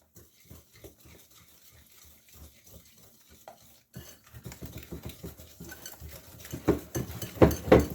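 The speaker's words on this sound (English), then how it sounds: "I'm going to stir this for a little bit" Apple roll batter with vanilla is stirred by hand in a bowl. A spoon scrapes and taps in an irregular rhythm close by, growing louder and busier toward the end.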